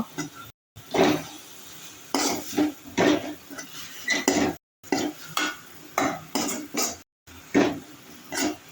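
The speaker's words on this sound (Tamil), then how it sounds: "அதோட கொஞ்சம் மிளகாத்தூளும் போட்டுக்கலாம் போட்டுட்டு வதக்கி விடுங்க" Chili powder being sautéed in a pan for a Sri Lankan fish curry: rhythmic scraping and clinking stirring strokes, close and fairly loud, with short pauses and only a faint sizzle underneath.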